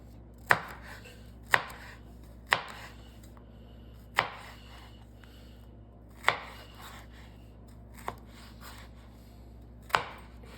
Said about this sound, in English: start off by chopping up a red pepper